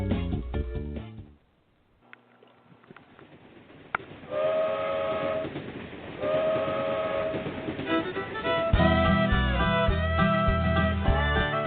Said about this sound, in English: The bluegrass trains are coming.